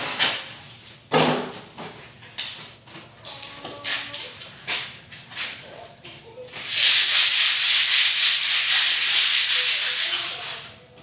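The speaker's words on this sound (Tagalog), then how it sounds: "Liha tayo para matapos na." Scattered rubbing strokes and taps, then a long steady stretch of loud, continuous sanding close by.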